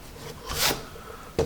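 A Magic Rub eraser scrubs across pencil marks on paper in a short soft rasping stroke, followed by a brief second rub.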